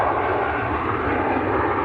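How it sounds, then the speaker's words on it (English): A Ryanair jet's engines roar at Manchester Airport in a loud, steady, dense burst of noise, close and unbroken. "Noisy Ryanair."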